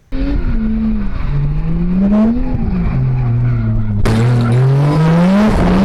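A JZ-swapped Nissan S14 drift car roars at a track, its engine note rising and falling through revs under tire noise, with a loud abrupt burst of harsh noise near the end.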